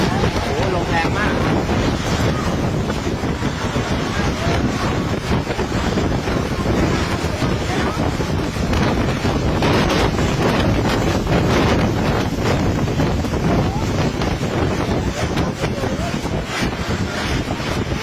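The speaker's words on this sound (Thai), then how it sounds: "ลมแรงมากนี่อนุสาวรีย์เซนตูรี่ครับลมแรงมากครับลมแรงมากเหมือนพายุเข้าเลยครับ" Very strong, storm-like wind roars continuously and buffets the microphone at the Centuri monument, a loud, unbroken rushing blast throughout.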